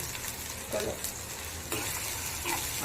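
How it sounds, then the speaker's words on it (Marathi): Two pureed tomatoes poured into a hot pan of potato and pea curry sizzle steadily close by, a continuous hissing crackle with small stirring scrapes and a swell near the end. "आता मित्रांनो याच्यामध्ये आपण टोमॅटोची प्युरी टाकूया"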